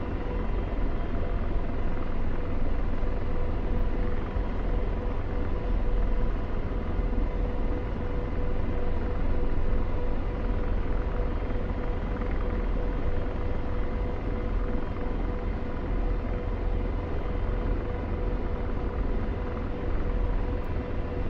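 A helicopter in a VR video game keeps up a continuous, loud, dense engine and rotor rumble for over twenty seconds, steady and unbroken, with no voices.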